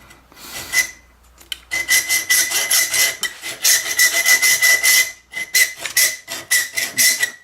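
A rusty, worn hacksaw blade cuts a metal part while a fire extinguisher mount goes onto a BX ROPS, giving loud, harsh rasping strokes in a quick steady rhythm close up after a few hesitant starts.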